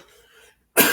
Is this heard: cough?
yes